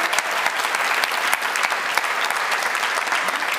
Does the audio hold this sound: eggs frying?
no